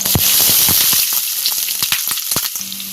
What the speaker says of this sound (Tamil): வெங்காயத்தை நல்லா வதக்கலாம்.